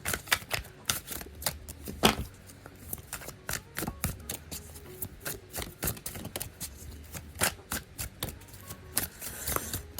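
Tarot cards shuffled by hand in a quiet room, giving a steady run of crisp, close riffling slaps and ruffles with short bursts and pauses, no voices present.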